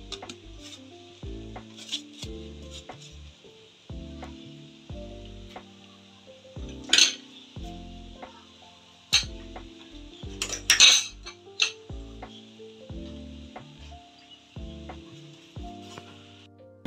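Leftover cooked rice goes into a pot of chicken masala biryani, with soft scraping and clinks of a metal spoon against the pot in an irregular rhythm and a few sharper knocks, close and fairly quiet, with no talking.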